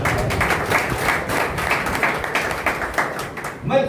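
Audience at a BJP gathering in Kolkata clapping, a sustained crowd applause of dense, overlapping claps that carries steadily before tapering at the end.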